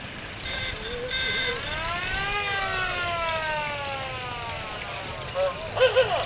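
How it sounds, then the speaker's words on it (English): A police car siren wails during a Veterans Day parade, rising and falling clearly over street noise, with a few short bursts of other sounds near the end. "Oh, we got the police car there."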